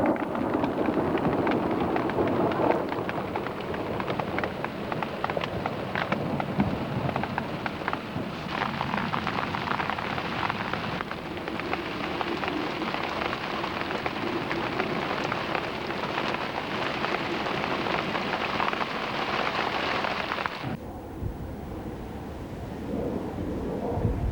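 Heavy rain pours steadily throughout, a dense and constant wash on an outdoor fishing day, with low rumbling beneath that suits distant thunder and a slight drop in intensity near the end.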